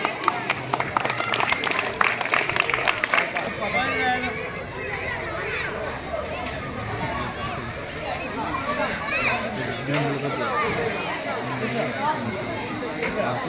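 A crowd including children bursts into brisk clapping that fades after a few seconds into lively chatter and background voices, with scattered claps continuing under the talk.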